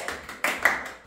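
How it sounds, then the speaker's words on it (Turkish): A classroom of students claps for a classmate in a quick, brief burst of a few scattered claps. "Hemen alkışlıyoruz arkadaşınızı."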